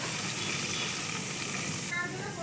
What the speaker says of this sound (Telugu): తాలింపు వేసుకుందాం ఇప్పుడు